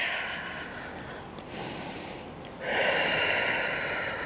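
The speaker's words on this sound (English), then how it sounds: "long deep breathing." Long, deep breaths during a Pilates core exercise, a steady airy inhale followed by a louder, rushing exhale, close and with no talking.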